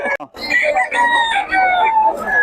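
A rooster crows loudly and close by, one long drawn-out call, with many chickens clucking around it.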